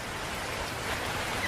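Steady rain falls outside a train in a cartoon scene, a soft, even hiss of drops that holds throughout without change.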